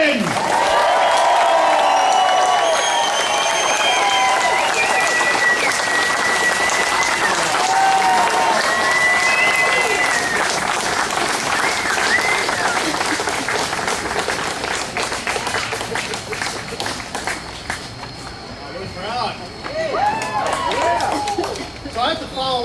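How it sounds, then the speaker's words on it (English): A large crowd at a political campaign kickoff applauds loudly and continuously with scattered cheers and whistles, the clapping thinning slightly toward the end. "I'm hearing all the applause"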